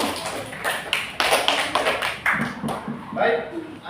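Children in an Indonesian primary classroom clap their hands in short, irregular bursts of sharp taps, fairly close and moderately loud, with background classroom chatter mixed in.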